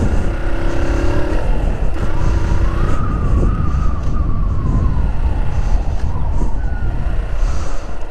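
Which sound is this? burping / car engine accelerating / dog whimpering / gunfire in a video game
car engine accelerating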